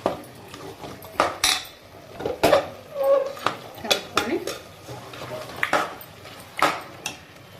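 A spoon clinks and scrapes against a metal pot while stirring Telangana-style mutton curry with salt, chili powder and spices, giving repeated short metallic knocks in an irregular rhythm. Voices talk faintly in the background.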